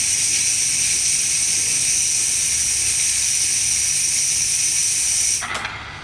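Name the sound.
Gevi espresso machine steam pipe releasing steam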